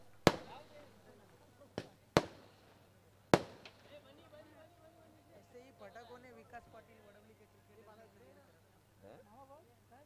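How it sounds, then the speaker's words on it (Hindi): Firecrackers and fireworks going off near a local cricket tournament match: four sharp, loud bangs in quick succession, then a commentator talking over quieter crowd and ground noise. "फटाकों की आतिशबाजी होनी चाहिए लेकिन थोड़ी दूर ऐसा मुझे लग रहा है"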